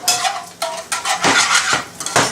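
A whisk clatters rapidly against a metal pan while butter is whisked into a blanc sauce off the heat, loud close metallic scraping in quick uneven bursts.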